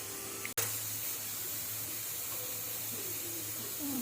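Pressure cooker holding vegetables such as cauliflower, giving a steady soft hiss of escaping steam after a single sharp click, faint and unbroken over a low hum.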